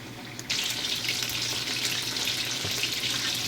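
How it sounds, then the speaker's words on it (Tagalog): Fish frying in oil in a pan, a loud, dense, continuous sizzle that bursts in suddenly and holds steady close by. "So, i-fry natin hanggang brown."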